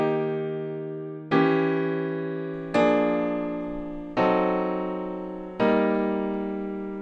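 A chord progression built around a common-tone diminished seventh chord, the kind heard in hymns and Sousa marches, played as four loud sustained chords alone, each struck and left to ring and fade.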